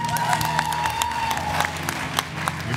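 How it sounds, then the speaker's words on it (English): A church congregation applauds at a Sunday service, steady dense clapping with a few scattered cheers, loud and close, filling the room throughout. "Give them another hand clap."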